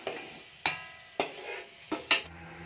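Brinjal pieces fry in a hot pan for a brinjal chutney, with a steady low sizzle broken by several sharp scraping stirs from a spatula.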